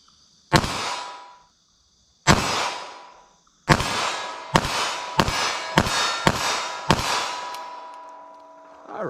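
Pistol shots from .380 ACP Winchester ammunition fired at a target at 14 yards, loud sharp reports with ringing tails: two spaced shots, then a quicker string of about seven, with no talk.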